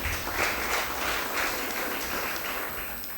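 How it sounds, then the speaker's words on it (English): Steady applause from a crowd at a school knockout competition, a continuous dense patter of clapping with no voices, moderately loud throughout. "A round of applause, please."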